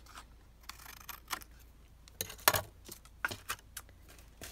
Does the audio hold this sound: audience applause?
no